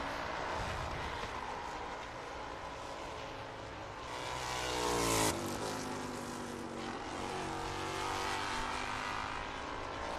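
Race car engine at Barber Motorsports Park, a loud sustained roar with a rising pitch sweep near the middle as the car passes or accelerates, then settling into a steady drone under light track ambience.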